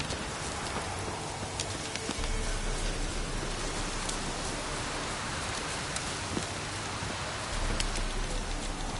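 Steady, dense downpour of rain in the video game Witcher 3, a constant broadband hiss of drops drumming on surfaces that holds even throughout, with no talk over it.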